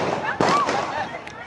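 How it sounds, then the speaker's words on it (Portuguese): Gunshots during a shooting, a sharp crack followed by a few more popping reports, fairly loud against background noise and faint voices. "É muito tiro aqui, galera."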